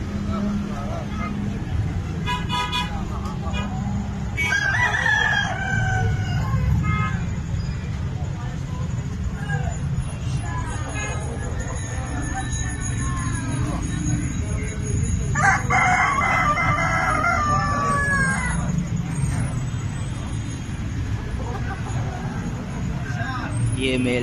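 Turkeys and other fowl at a livestock market make gobbling and crowing calls over steady crowd noise and passing traffic, while people talk throughout.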